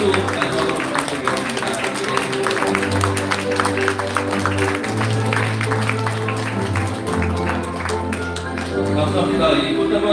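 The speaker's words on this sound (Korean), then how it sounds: "다시 한번 큰 박수 부탁드리겠습니다" A large audience claps at an international forum on repatriating South Korean prisoners of war, the applause running steadily under a continuous low hum and a speaking voice.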